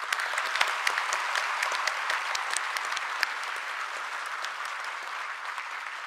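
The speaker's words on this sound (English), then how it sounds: "Ladies and gentlemen, a big round of applause to the Faculty of Postgraduate Medicine." At a medical university convocation in Bhutan, the graduation audience applauds the postgraduate medicine faculty with an even, sustained round of clapping, individual sharp claps standing out close by.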